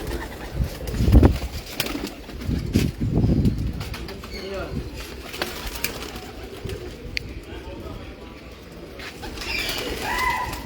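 Pigeons coo low and soft alongside bursts of wing flapping, with voices talking now and then in the background.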